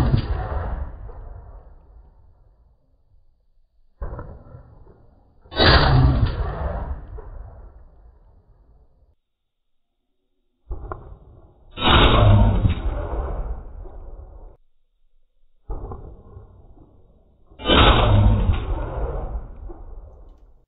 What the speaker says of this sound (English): I'm going to shoot this 20 gauge Beretta 686 in the free recoil position from the bench.